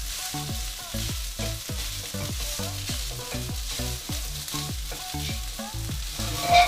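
Mushrooms sizzle steadily in a pan of melted butter and garlic, a loud, continuous frying crackle heard alone and close up.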